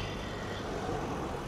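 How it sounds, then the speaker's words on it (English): Steady rush-hour road traffic on a cold day, cars, trucks and e-bikes passing as a continuous broadband roar with no distinct single pass-by, moderately loud and unbroken. "A lot of traffic right now."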